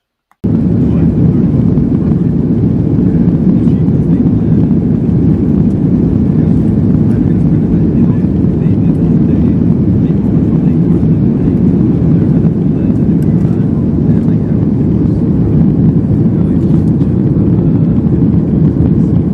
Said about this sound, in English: The plane lifted off and we were in the air.